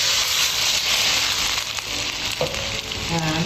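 Chicken stock hitting a hot wok and sizzling loudly, a dense steady frying hiss with brief stirring clinks near the end.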